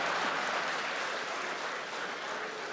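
A steady burst of crowd applause at an editors' conference, dense and even, continuing throughout without voices breaking through.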